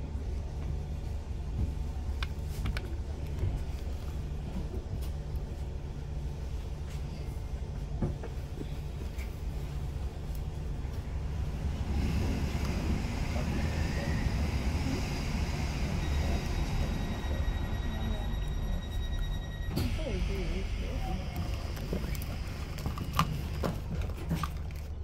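An onboard recording of a suburban passenger train running on from New Malden toward Raynes Park. The interior carries a steady low rumble and rail clatter that swells louder midway, with faint whining tones and no speech.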